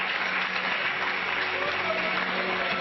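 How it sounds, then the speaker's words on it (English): An audience at a human rights initiative event gives a full, hard round of applause, a steady dense wash of clapping that stays loud and even throughout, with faint voices underneath. "Give him a good clap. Not Biafra clap, full hard clap."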